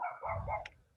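A dog gives a short, muffled bark or yip, faint and somewhat distant in a quiet room, lasting about a second with no talk over it.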